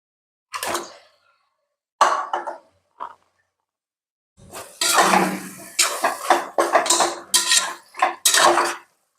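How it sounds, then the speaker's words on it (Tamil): Chunks of mutton tip into a metal cooking pot for biryani, giving several separate clattering, sizzling splashes and then a longer burst of scraping and clanking as the meat is stirred in, close and loud with no talk. "நம்ம இப்போ மட்டன் சேர்த்திக்கலாம்."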